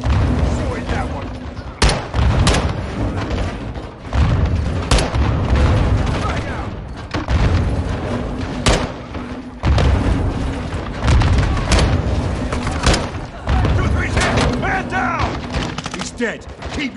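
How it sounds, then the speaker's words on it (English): Grenades explode repeatedly in the video game Call of Duty Modern Warfare 2 as loud, close booms amid gunfire and a dense rumbling battle din, with voices shouting and talking throughout. "They're launching grenades!"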